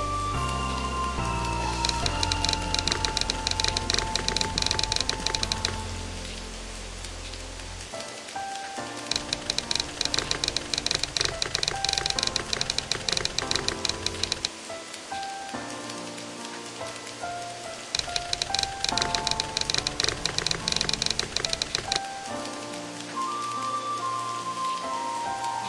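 Steady rain falling in a game scene, a dense hiss of drops and patter on surfaces that runs throughout, joined by a low droning tone and a soft melodic background score.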